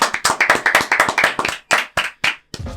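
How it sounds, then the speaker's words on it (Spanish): Audience clapping and applauding at the close of a construction-industry program event, a loud burst of separate hand claps in an uneven rhythm that thins out and stops near the end. "un aplauso para todos ustedes."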